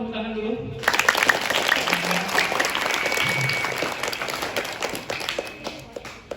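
Students at an Islamic boarding school clap their hands together after a short spoken lead-in, a dense crowd of palms beating steadily for several seconds and then thinning out.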